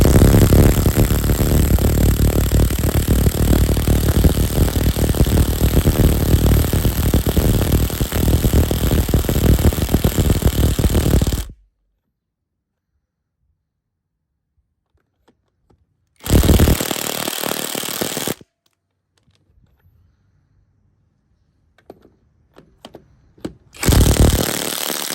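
Hercules high torque impact wrench and Milwaukee M18 2763 running: a loud, steady hammering whir for about eleven seconds, then silence, a short second burst, more quiet with faint clicks, and a brief final run.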